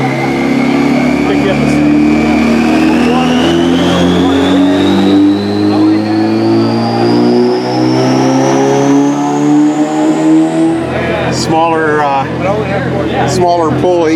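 A nitrous-equipped car with a smaller pulley and a roof vent revs hard on a dyno, its engine note climbing steadily for about ten seconds before dropping off, loud and close, with voices talking over it.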